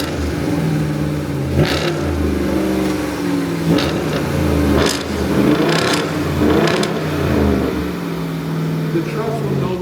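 A 2026 Ram 1500 Hemi V8 revs in several sharp, separate bursts over a low, steady idle, loud and close, with someone talking across it.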